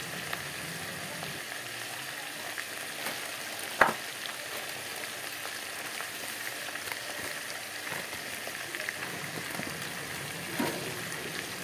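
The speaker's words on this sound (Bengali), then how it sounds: "আলুর সাথে হলুদ নুন দিয়ে লাল লাল করে ভেজে নেব" Potatoes frying in oil with turmeric and salt for a vegetarian curry, a dense continuous sizzle with occasional stirring scrapes and one sharp knock of the spatula, close and steady throughout.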